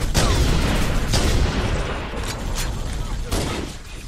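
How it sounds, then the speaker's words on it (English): Rapid Gatling gun fire in Halo: Combat Evolved roars loud and dense in a sustained burst with heavy booming bursts layered over it. "I think I'm standing in the way of the Gatling gun."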